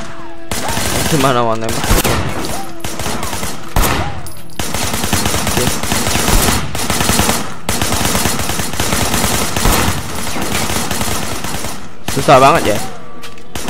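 Dense bursts of rapid automatic gunfire during shooting practice in the Sleeping Dogs video game, loud and nearly continuous, with a few short pauses and someone talking over the shots.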